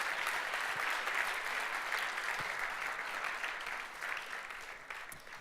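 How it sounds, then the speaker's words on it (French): A live audience at the Sorbonne Université final of the 2018 Ma thèse en 180 secondes contest applauds the jury as it leaves for deliberation: steady, dense clapping from a large room, moderately loud and continuous, gradually thinning toward the end. "Vous pouvez les applaudir parce qu'ils vont avoir du boulot."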